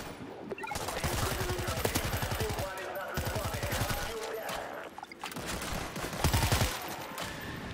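Dense bursts of automatic gunfire from a World War Z zombie shooter, rapid rattling volleys repeating in waves with brief pauses, loud and close throughout.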